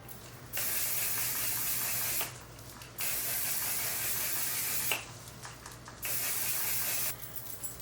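Setting spray mists onto a face in three bursts of a second or more each. Each is a close, even hiss, with quiet pauses between them.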